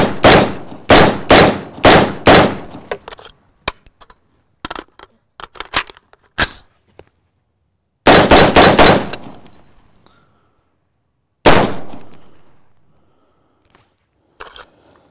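Gunfire from a Strike Industries G4 Slidecomp pistol and Viper PDW on an outdoor range: a quick string of five sharp shots, scattered lighter reports, then two more loud isolated shots with ringing decay, no talk.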